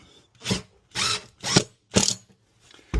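A drill drives a screw through linoleum into wood in short bursts: five distinct whirring pulses, close and clear, spaced about half a second apart with quiet gaps between, no voices.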